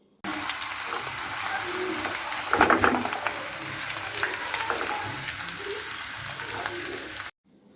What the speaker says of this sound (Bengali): খিচুড়ি রান্না শেষে এখন মাংস রান্না শুরু হচ্ছে।